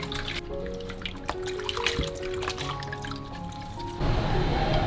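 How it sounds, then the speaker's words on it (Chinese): Soaked night-blooming cereus flowers are rinsed in water, giving close splashing, dripping and trickling sounds with soft handling clinks, and a fuller rush of water toward the end, no talk. "霸王花泡软了之后清洗干净"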